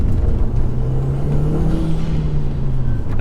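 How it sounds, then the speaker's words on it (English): An Audi TT 225 with the 1.8T turbo engine, fitted with an oversized 80mm inlet pipe and cone filter, drives through a tunnel, giving a steady close engine drone with a soft whooshing hiss from the dump valve. "I love that sort of dump noise sound"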